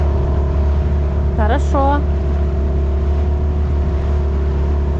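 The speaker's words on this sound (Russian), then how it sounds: "Сейчас мотор прогреется, просто я пойду." A boat outboard motor idles steadily as it warms up on a hydroplane near the shore of Chikhachev Island, a constant loud drone with brief voices talking over it.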